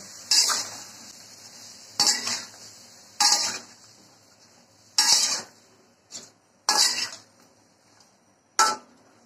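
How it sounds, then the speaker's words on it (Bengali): Spiced vegetables sautéing in a pan, with a steady sizzle broken by about seven loud scraping strokes of a spatula at irregular intervals. "এখন ভালোভাবে কষিয়ে নিচ্ছে।"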